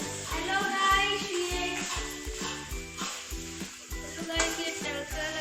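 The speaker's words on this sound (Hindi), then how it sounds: "प्याज और लहसुन और अदरक का तड़का लग रहा है" Onion, garlic and ginger tempering (tadka) sizzles steadily in a kadai pan for chicken curry, with a continuous loud hiss broken by repeated rhythmic stirring clanks and scrapes.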